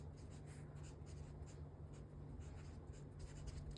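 Pen writing on paper during a tailoring class: soft, faint scratchy strokes in a light irregular rhythm over a steady low background hum.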